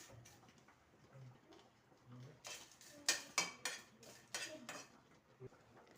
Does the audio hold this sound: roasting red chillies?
yes